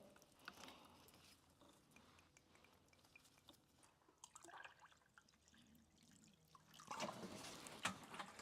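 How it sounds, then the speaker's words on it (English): Coolant water running out of both ends of the cooling hoses on a Toyota HDJ78 Troopy during a flush, a faint trickling and dripping that swells into a louder splash near the end. "I've got water coming out of both ends there."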